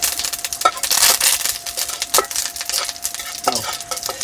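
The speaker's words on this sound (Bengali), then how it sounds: "এই তেলে দিয়ে দিচ্ছি 2টো শুকনো লঙ্কা, কালো সরিষা, দিয়েছি কারি পাতা।" Dry red chillies, black mustard seeds and curry leaves frying in white oil in a kadai, a loud crackling sizzle with sharp popping bursts and spattering throughout.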